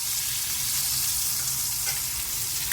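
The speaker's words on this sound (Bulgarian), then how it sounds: "Движим парченцето, за да може да поеме краве масълце и да стане сочно." Tuna and bacon fry in butter in a pan, giving a steady, close sizzle and crackle with small pops throughout and no voices.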